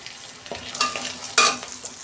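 Turmeric stirred into hot oil with black cumin seeds and a green chilli sizzles steadily in a pan, with a few louder scraping stir strokes over the frying hiss and no talking.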